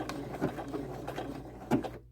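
A Husqvarna Viking Jade 20 sewing machine stitches a buttonhole with a quiet, rhythmic mechanical whir and light clicks, heard close, before stopping abruptly.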